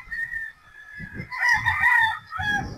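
A pure Boston Roundhead gamefowl rooster crows clearly and loudly close by, a long harmonic call with a rising burst in the middle, with a few clucks and low scuffling around it and no talking.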